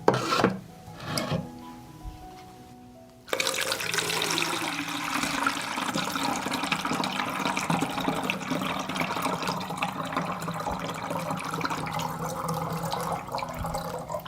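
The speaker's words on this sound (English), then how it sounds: "I will pour the solution prepared in this way into the sprayer." A homemade garden solution is poured into a garden sprayer, giving a continuous splashing, gurgling liquid stream that begins suddenly after some brief handling noises and runs close and steady to the end, with no talking.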